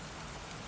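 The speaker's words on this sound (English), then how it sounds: "I love the sound of rain" Steady rain falls, a dense, even hiss of drops that fills the whole moment with no gaps or pauses.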